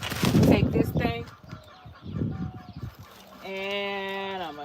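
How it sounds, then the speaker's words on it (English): A hen clucks in a backyard garden setting, its harmonic calls rising and falling near the end after muffled handling noises and rustling; a voice talks over the earlier part. "That's the sound of a hen."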